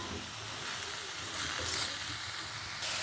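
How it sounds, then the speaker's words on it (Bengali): Grass pea leaves simmering in a covered pot give off a steady, soft hiss of steam, close and continuous, with a faint bubbling rumble underneath and no one talking. "আমি যে ঢাকনা ঢেকে দিয়ে সিদ্ধ করে নেব"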